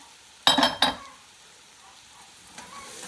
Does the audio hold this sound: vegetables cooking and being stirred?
yes